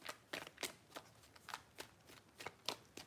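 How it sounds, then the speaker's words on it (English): A deck of tarot cards being riffle-shuffled repeatedly, quick papery bursts in an uneven rhythm, close and fairly quiet. "3 shuffles."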